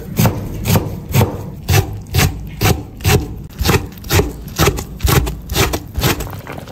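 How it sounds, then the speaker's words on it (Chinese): A knife slices homemade pickled cabbage into thin shreds on a cutting board, a loud and close series of about fourteen regular rasping chops. "再切一把自己腌的酸菜，切成丝丝"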